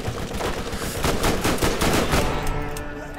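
Rapid gunfire from the video game Borderlands, a dense, continuous burst of loud shots for about two and a half seconds before trailing off.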